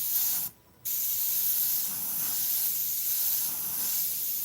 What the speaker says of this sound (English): Okay, so I got to make sure it's spraying right.